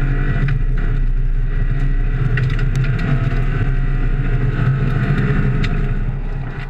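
Guðni Ómarsson and Pálmi Gíslason's rally car sets off on the Mælifellsdalur gravel stage in the Icelandic Rally Championship, Skagafjordur. A loud, close engine drone holds steady throughout, easing slightly at the very end.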